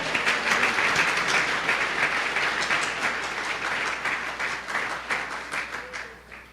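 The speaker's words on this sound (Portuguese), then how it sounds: "Dê uma salva de palmas ao Senhor." A church congregation applauding during a sermon, a dense round of clapping that starts strong and gradually thins and fades toward the end.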